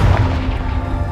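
A fire-blasting spell explosion in a video game, a loud, rumbling low boom that fills the whole second without letting up.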